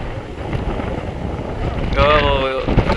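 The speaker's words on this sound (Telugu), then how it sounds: "అమ్మ గాలి బాగా వస్తుంది" Strong wind buffets the microphone at Eden Beach in Pondicherry, a steady roaring rush through the whole stretch with a brief tonal sound partway through, close and loud.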